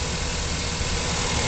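The engine of a Chevrolet K1500 LT Z71 4WD crew-cab short-bed pickup idles smoothly. It gives a steady, even rumble heard up close with no voices.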